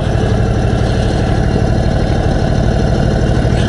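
A 2021 Indian Chief Dark Horse motorcycle idles close by, its big V-twin throbbing in a steady, loud, even rumble with no break or rise.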